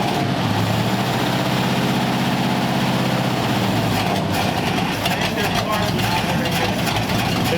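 The engine of a custom 1946 Ford convertible with a rebuilt carburetor runs loud and close in a rough, uneven idle that changes partway through, with irregular popping bursts and a voice speaking over it.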